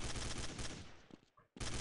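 Shotgun fire in Counter-Strike: Condition Zero on the Havana map against bots, loud dense blasts filling the sound, tailing off briefly before another abrupt burst.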